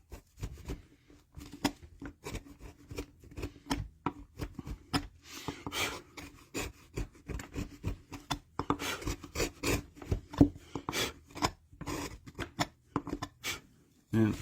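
Skew chisel cutting and paring into wood on a fantasy medieval light post relief carving, a dense run of short scraping, chopping strokes at close range, loud and uneven, with occasional faint talk.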